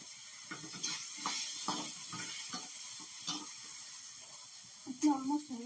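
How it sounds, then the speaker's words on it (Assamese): Food frying in butter in a pan, a steady soft sizzle and hiss with stirring scrapes, close by, joined by a brief louder crackle near the end. "এইখিনি ধুনীয়াকৈ বাটাৰত ধুনীয়াকৈ ভাজিছোঁ"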